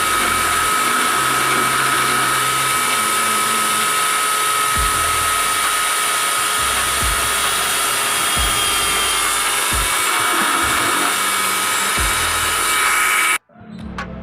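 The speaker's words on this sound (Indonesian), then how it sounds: "selanjutnya kita bor sesuai dengan ukuran lubang jari" A small power drill bores a finger hole through a coconut-shell ring, a steady high whining drone for about thirteen seconds with faint intermittent thumps beneath, then cutting off abruptly.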